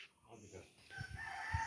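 A chicken in a village yard, heard in a brief, fairly close burst of fowl calls mixed with faint background noise, with no talk over it.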